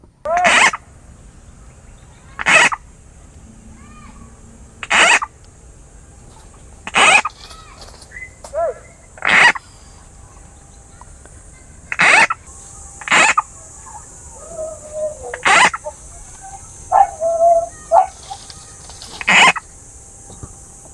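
A voice imitates a bullfrog with a series of short, loud croaking calls spaced a couple of seconds apart, with quieter sounds between them, while frog hunting.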